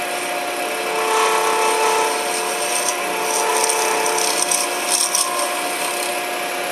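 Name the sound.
scraper tool turning acrylic on a lathe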